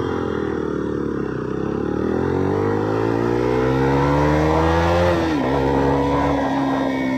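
A Yamaha R15 motorcycle fitted with an Akrapovic exhaust revs up close by, its engine note climbing steadily, dipping briefly, then rising again over a continuous rumble.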